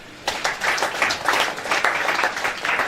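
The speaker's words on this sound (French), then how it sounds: "Acclame Jésus." A church congregation breaks into applause for Jesus, dense clapping starting abruptly after a brief quiet moment and continuing evenly to the end.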